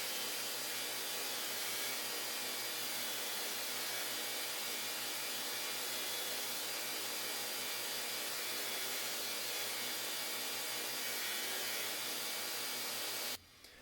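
A belt grinder runs steadily for about thirteen seconds, abrading a knife on a slack belt setup, a continuous loud whirring grind with no talking, stopping abruptly at the end.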